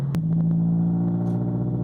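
A 2013 Subaru BRZ engine drones steadily at low pitch while climbing a hill at quarter throttle from about 2,000 RPM, a smooth sustained hum with a faint rumble, no talking.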